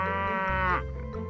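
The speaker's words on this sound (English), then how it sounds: "cow" A cow on a farm gives a single sustained moo, loud and close, over a steady musical backing.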